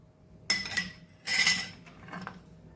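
Ginger garlic paste spooned into a bowl for a spicy prawn pulichat, giving two bright scraping clinks of a metal spoon on the dish followed by a fainter tap, close up with no talk.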